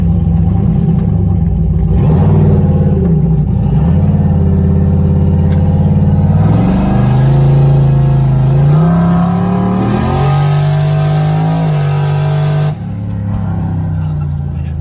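A 1995 Ford Mustang drag car roars loudly up close as its engine revs hard and climbs through gears, holding a strong, steady rumble before easing off near the end.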